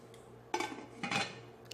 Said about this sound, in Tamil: உப்பு சேர்த்து மூடி போட்டு கொதிக்க விடுங்க.